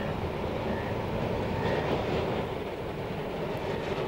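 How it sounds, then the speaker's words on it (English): A tram rolls along a busy Indian tramway, giving a steady, dense rumbling roar of wheels and car body with faint rail clatter. The sound is continuous and moderately close, and no one speaks. "During his visit, Jeff Todd captured all the atmosphere of this bustling tramway with its fleet of 64 virtually identical vehicles"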